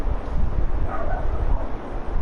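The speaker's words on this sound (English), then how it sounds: "And that doggy that's barking is my dog Chacho." The dog Chacho barks outside a house at night, in short muffled yips and woofs heard at a distance under a windy, noisy background.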